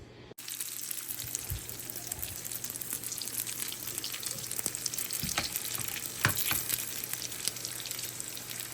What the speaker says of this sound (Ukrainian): дивіться, приступаю смажити уже красу теж